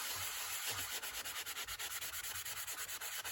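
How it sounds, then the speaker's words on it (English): Rhythmic sanding strokes rub back and forth across the surface of a playing card, close and steady, a repeated scratchy swish with no talking. "I just did a little bit of a sanding over the top of this first"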